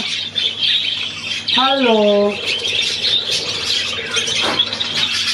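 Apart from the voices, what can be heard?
budgerigar squawking and chirping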